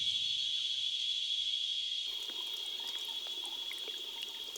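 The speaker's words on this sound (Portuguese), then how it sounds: "Imagem das águas de um rio." River water of the Paraíba do Sul flows with a soft, steady rush, while a constant high insect chirr sounds loud and continuous on top for the whole stretch.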